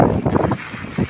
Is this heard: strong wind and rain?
yes